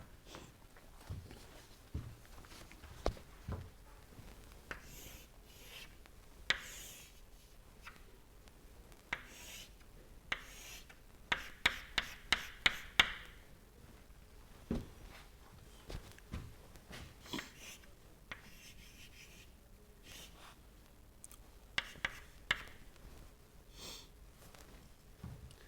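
Marker or chalk strokes on a lecture-hall board as a schematic is drawn, scattered soft scratches and taps with a brief flurry of rapid strokes midway, faint against quiet room noise and no talk.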